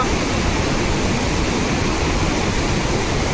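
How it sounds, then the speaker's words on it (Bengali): Rushing water released from the Paresnath dam pours at high speed beneath a bridge, a loud, steady, broadband roar that continues without a break from start to finish. "দেখুন কত স্পিড জলটা ছেড়েছে ব্রিজে, এত স্পিড জল যাচ্ছে"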